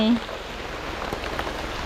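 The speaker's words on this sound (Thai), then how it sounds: "โอ้ยฝนตกจ้า" Heavy rain with big drops pours down outdoors during tea picking, a steady close hiss filling the whole stretch, with brief voices near the start.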